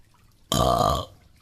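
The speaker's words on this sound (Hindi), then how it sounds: "तभी कालू जानबूझकर डकार देने लगता है।" A cartoon crow gives a single deliberate, drawn-out burp, loud and close, lasting about half a second against a quiet background.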